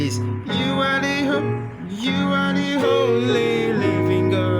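Piano playing a 3-6-2 chord progression in a worship song, with a voice singing along over shifting chords for a few seconds.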